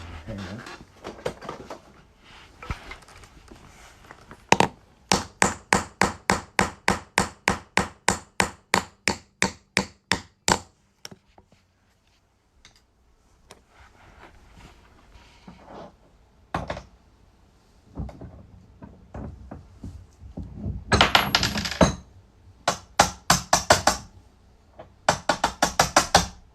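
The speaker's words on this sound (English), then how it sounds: "So the first step for making these quarters into rings is punching a hole in the center of them." Hammer blows punch a hole through a quarter coin on a hard surface, with two loud runs of rapid, evenly spaced metallic strikes, a quieter stretch of scattered taps, then more sharp bursts near the end.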